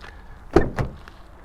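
Two quick knocks on the door of a 2023 Mazda CX-30 GT, each a hollow, thin-sounding thud about a quarter second apart, close and fairly soft, with no talking.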